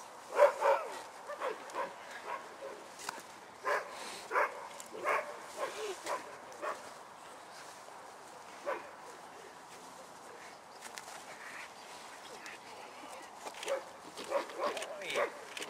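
A dog barks repeatedly in short bursts during a bite-work drive test, the barks close and sharp and scattered through the clip, with people talking over and between them.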